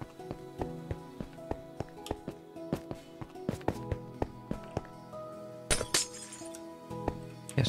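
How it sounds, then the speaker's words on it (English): Glass blocks in Minecraft being broken one after another, a steady run of sharp clinking shatters with a louder crash near the end, fairly quiet and close. "this on here is just glass, which I've just now broken"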